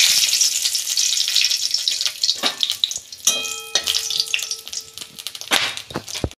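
Cinnamon, cardamom and cloves sizzle in hot oil for a chana paneer dish made without onion or garlic, a steady bright crackle with a few sharper pops and light utensil clinks, close and alone.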